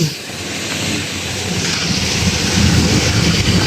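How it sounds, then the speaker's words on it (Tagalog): Strong typhoon wind at Manila Bay buffets the microphone in a steady, loud rush, with a deep rumbling roar and no voices. "Lakas ang hangin."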